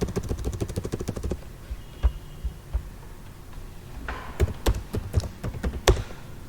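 Rapid keystrokes on a computer keyboard, a quick run of clicks for a little over a second, then scattered single taps, and finally a denser burst of irregular, fairly close key presses.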